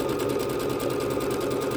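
A Bernette B-77 sewing machine stitching a simple stitch, a fast, steady mechanical whir with rapid even needle strokes, close and continuous with no talk.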